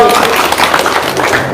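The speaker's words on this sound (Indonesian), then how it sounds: "tepuk tangan dong" Audience clapping at a seminar, a short, dense burst of applause heard close and fairly loud, with scattered voices mixed in.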